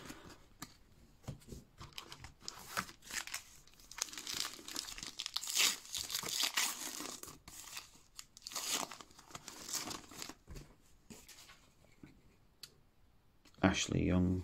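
Panini Premier League Adrenalyn XL Plus 2023 card packs torn open one after another, with close, continuous crinkling, ripping and clicking of foil wrappers and cards that swells and fades, ending in a sharper loud rip.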